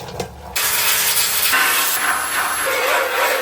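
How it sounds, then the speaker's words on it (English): Metal near a weld is sanded by hand on a C20 firewall during fabrication for a Crown Vic swap, giving a loud, continuous abrasive scratching that shifts pitch in strokes after a brief quiet start. "While I have access to here, let's finger sand it."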